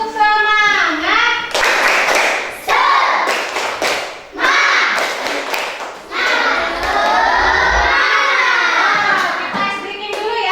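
A group of children claps in bursts of quick rhythmic beats, mixed with loud chanting and shouting voices, close and lively.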